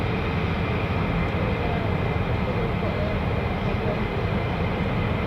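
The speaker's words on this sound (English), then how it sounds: "More going out, more F-35s departing" US Air Force F-35 fighter jets departing RAF Lakenheath produce a dense, steady low roar of jet engines that holds loud and unbroken throughout, with no voices over it.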